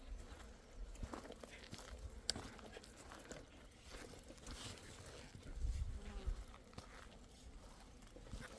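Asian honeybees swarming at their hives make a steady, dense buzz throughout, with faint scattered knocks and footsteps nearby.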